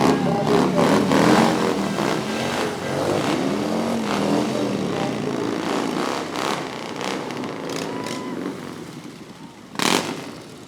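Harley-Davidson motorcycles roll past in an Armed Forces Day parade in Bremerton, engines rumbling steadily under continuous talk from an announcer, with a brief louder burst near the end.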